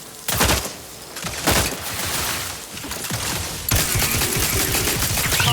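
Gunfire in The Outer Worlds 2 during a combat sequence: loud bursts of shots at the start and again around the middle, then a denser, sustained volley near the end, with no voices in between.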